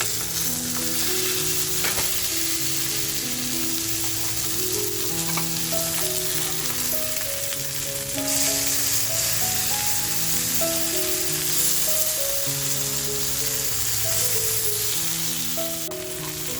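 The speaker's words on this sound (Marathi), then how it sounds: "आपली एक बाजूने अशी मच्छी छान फ्राय झाली आहे" Sardines (tarli) fry in a pan Malvani style, giving a steady, close sizzle that runs unbroken and fairly loud throughout, with music playing underneath.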